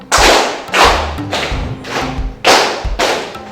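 Students in a classroom clap together in unison following a teacher's counted pattern, delivering a few loud, sharp, evenly spaced group claps with brief pauses between beats.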